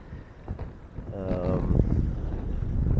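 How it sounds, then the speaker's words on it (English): Wind buffeting a sailing yacht at anchor: a steady, rough, blustery roar across the microphone that grows slightly stronger, with a brief tonal voice-like sound in the middle. "let me move to the salon and get rid of some of this wind"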